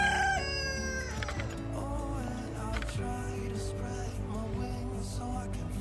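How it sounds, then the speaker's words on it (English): Chickens on an off-grid farm at feeding time, a rooster crowing loudly at the start followed by continuous clucking and squawking from the flock nearby. "Apparently it's time to feed the chickens."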